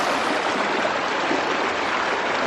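Water in Lick Creek on the Ozark Highlands Trail flows in a steady, dense, even rush, close by and alone, with no talk over it.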